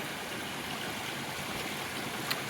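A creek beside a hiking trail in Georgia flows steadily, a constant rushing, burbling wash of water heard close and uninterrupted, with no talking.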